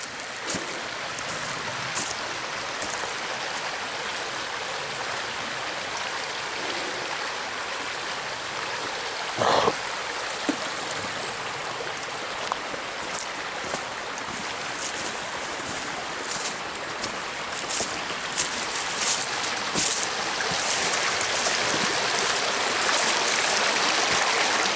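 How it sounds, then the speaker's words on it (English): A fresh-running creek in snowy woods rushes steadily, a broad constant wash of flowing water that stays loud and even throughout, with no voices. "Here's a creek. It's actually flowing pretty good right now."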